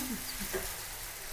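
Chilies and vegetables frying in a pan for a Pakistani pinwheel samosa filling, a soft, steady sizzle with faint stirring scrapes, quiet and continuous.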